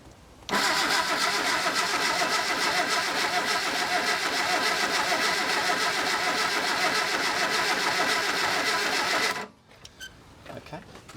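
Rebuilt classic car engine cranking on its starter motor without firing, a loud, close, rhythmic churning that runs steadily for about nine seconds, then cuts off, followed by quiet handling noises.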